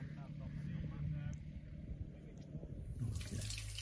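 Water runs for the first time from a newly installed kitchen tap, a faint steady stream that swells into a brighter rush near the end, with a low hum and voices in the background.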